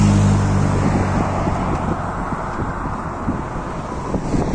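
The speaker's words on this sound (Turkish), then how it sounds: "Trafik bu şekilde akıyor arkadaşlar, gördüğünüz gibi" Steady road traffic rolls across a new bridge in Adana, a continuous broadband rumble of passing cars with wind buffeting the microphone throughout.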